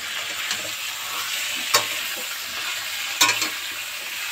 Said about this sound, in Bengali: তোরা পেঁয়াজের মধ্যে এখন চিকেন দিয়ে আমি এটা একটু নাড়াচাড়া করছি